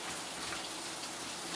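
A downpour soaks a small shop, steady rain spattering on the roof and ground in a continuous close hiss, no voices over it.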